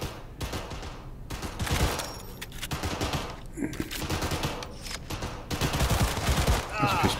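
Rapid bursts of video-game gunfire from Cyberpunk 2077 crackle loudly and close, in repeated volleys across the whole stretch, with voices mixed in.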